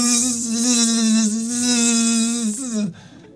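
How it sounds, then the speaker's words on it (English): A DJI Neo drone flies close by with a loud, high-pitched, mosquito-like whine that holds steady, wavers slightly, then drops in pitch and fades out abruptly. "this has like an annoying mosquito sound, and it travels far"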